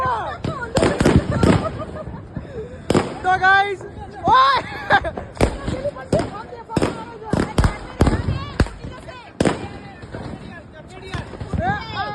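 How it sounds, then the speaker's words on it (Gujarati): Firecrackers and fireworks burst during a Diwali celebration, with a rapid run of sharp, close bangs and crackles spread throughout, while people talk over the noise. "હજુ બધે ફટાકડા ફૂટ ફૂટ ફૂટ ફૂટ થાય છે"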